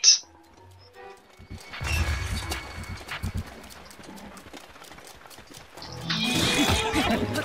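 Horse hooves clip-clop and a whinny sound in a Breath of the Wild game session, fairly faint and intermittent with rustling and impacts, rising into a busier burst near the end.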